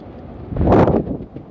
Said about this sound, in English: literal example of the wind